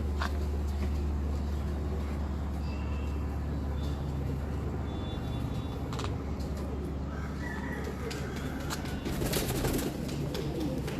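Pigeons on a city rooftop in Lahore, among them a red hen pigeon, with soft cooing and bird calls over a steady low hum of background noise, faint and distant, no talk.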